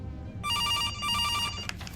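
A telephone in a horror video game set in September gives one two-part electronic trill, clear and near-field over a faint low background rumble.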